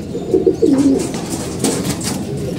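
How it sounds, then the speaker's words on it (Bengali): Pigeons cooing nearby, low rolling coos repeating in short phrases against a soft background hum. "এই যে আমাদের কবুতর সবগুলাই"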